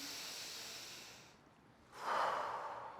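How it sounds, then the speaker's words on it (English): A deep breath drawn in through the nose during a workout breathing exercise: a soft, airy rush fades into a short pause, then a fuller, louder inhale swells in close to the microphone. "Breathing in."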